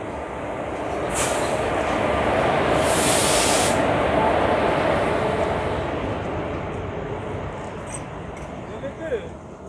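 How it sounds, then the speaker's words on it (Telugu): A Bidar superfast express train rolling into platform 2 with a low rumble and bursts of hissing air, voices faintly audible in the background. "20 మినిట్స్ డిలేతో మన ట్రైన్ అనేది ప్లాట్ఫామ్ 2కి వచ్చింది"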